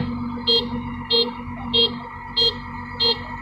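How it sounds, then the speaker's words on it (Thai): A tractor's reversing alarm, very loud, while the tractor cuts field ridges: five sharp, evenly spaced beeps about two-thirds of a second apart over a steady diesel engine rumble. "เสียงถอยโคตรดังเลยครั"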